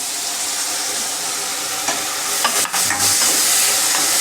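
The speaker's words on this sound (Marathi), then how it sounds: "तर आपण ह्याच्यामध्ये आता टॅमॅटो ॲड करूया." Tomato goes into browned onions frying in a pan for a dried bombil masala, and a constant loud sizzle follows, with a few soft stirring scrapes near the end. No one speaks.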